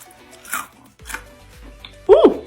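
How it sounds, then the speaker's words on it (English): Crunchy air-fried food bitten in a few separate crisp crunches, close and fairly loud, with a voiced exclamation at the end. "I know you hear that crunch."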